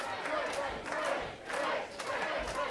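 Wrestling crowd at a Superstars of Wrestling show cheering and shouting for a wrestler in the ring, a sustained roar that swells and dips in waves over a couple of seconds.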